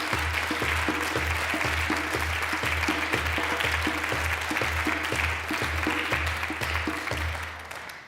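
Steady audience applause fills a hall during a church-hosted social analysis session, dense and sustained for the whole stretch before tapering slightly at the end, with a regular low thumping pulse running underneath.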